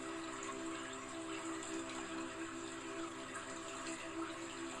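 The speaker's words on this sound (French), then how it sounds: "Vos peurs sont complètement dissoutes par l'eau de la cascade." Steady rushing water from a cascade pours continuously at moderate level, a broad even wash of spray with faint low hum beneath, no voices.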